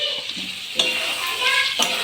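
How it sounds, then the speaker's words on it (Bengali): Potatoes stirred into hot spiced oil in a pan for egg biryani: a steady close sizzle with scraping stir strokes around the one- and two-second marks, no talking. "একটু নেড়ে নেবো।"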